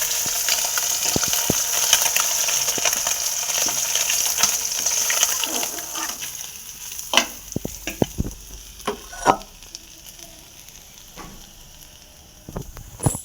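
Fish pieces fry in oil in a pan over a gas flame, giving a steady close sizzle with scattered clicks and clatters of stirring and turning, and no voices.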